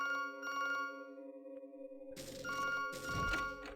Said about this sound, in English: Always pick up the phone when it creepily rings while you're running down the infinite hallway